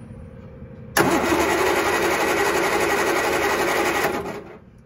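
A 1968 Triumph TR250 engine runs with no exhaust fitted, starting abruptly into a loud, raw, steady rasping roar that holds for about three seconds before cutting off, with no talk.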